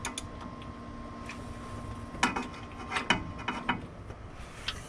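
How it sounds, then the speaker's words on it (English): Faint, irregular mechanical clicks and ticks from turning the engine crank on a 1978 Ford F100, with a few sharper clusters of ratcheting taps over a steady low hum. "I'm gonna start turning this crank"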